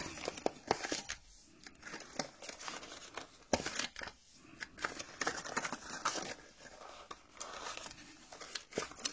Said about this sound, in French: vous marquez tous vos plis